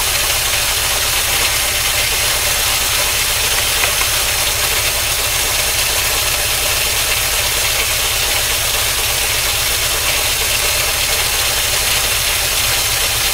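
The engine of a 1953 Oldsmobile Rocket Super 88 barn find idles close and loud, with a steady, even rumble and a faint knock throughout. No voices are heard.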